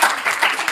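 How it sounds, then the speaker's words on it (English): Audience applause at a talk before a meditation session, a brief, dense burst of many hands clapping close by, steady throughout with no voices standing out. "Thanks for all the applause."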